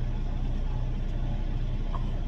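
A truck engine runs steadily close by, a dense continuous low rumble and drone with no break or change in pitch.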